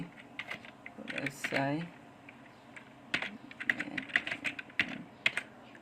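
Keys clatter on a computer keyboard while text goes into MS Word, in quick irregular bursts with brief pauses, close and soft, with a short stretch of voice in the middle.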